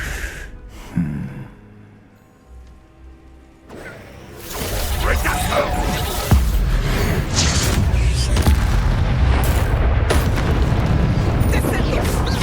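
Bombarda spell explosions go off in Hogwarts Legacy: after a quiet stretch with a sharp gasp, a loud, sustained roar of blasts and rumbling debris takes over and keeps going steadily to the end.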